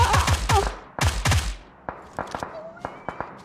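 Video game gunfire with heavy bursts of automatic shots early on, then a series of sharp, lighter single cracks spaced apart, as if fired from a distance or through a suppressor.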